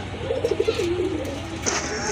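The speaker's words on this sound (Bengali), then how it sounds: "আরেক জোড়া কবুতর দেখতে পাচ্ছেন এখানে" A domestic pigeon gives a soft, rolling coo close by, one short warbling phrase, among a pigeon seller's birds, with no speech over it.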